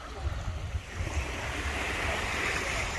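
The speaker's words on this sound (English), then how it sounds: "So this is the Gulf. So not many waves" Gentle surf washing onto Little Hickory Beach on the calm Gulf of Mexico, a steady soft wash of small waves with wind noise on the microphone and no talking.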